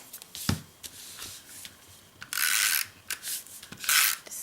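A snail adhesive tape runner rolls adhesive onto a card sheet in several short rasping, ratcheting strokes, close and fairly loud, with brief pauses between passes.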